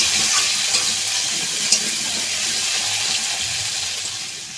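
Potatoes, radish and other mixed vegetables frying in a pan for a spinach dish, a continuous bright sizzle with faint stirring scrapes, steady and close, no voices.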